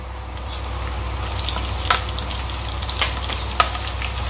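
Whole spices (cinnamon, cardamom, bay leaf, black pepper, cumin) and green chillies fry in hot oil, giving a soft, steady sizzle with a few sharp pops and crackles, quiet and without talk.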